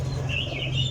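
Racing pigeons released at a pigeon-flying competition, a brief burst of flapping wings close by, over a constant low background hum.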